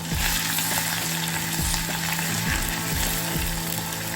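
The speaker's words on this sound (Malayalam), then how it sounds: "ഒരു മൺചട്ടിയിലേക്ക് മൂന്ന് ടേബിൾ സ്പൂൺ വെളിച്ചെണ്ണയും അര ടീസ്പൂൺ കടുകും കുറച്ച് വറ്റൽമുളകും ഒരു ടേബിൾ സ്പൂൺ വെളുത്തുള്ളി ചതച്ചതും ചേർത്ത് കൊടുത്ത്" Mustard seeds, dried chilli and crushed garlic fry in coconut oil in a clay pot, giving a steady close sizzle with occasional light pops and scrapes of stirring throughout.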